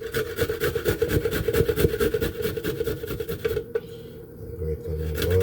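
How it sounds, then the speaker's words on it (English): Ginger and garlic rubbed against a kitchen grater in a steady rasping scrape, close and continuous, with short repeated strokes that stop near the end. "So I'm gonna do some grater of the ginger and the garlic."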